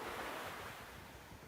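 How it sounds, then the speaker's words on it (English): Ocean waves roll steadily onto a shore in a broad, continuous wash of surf with some wind, loud and close, with no voices present. "The waves gently roll onto the shore."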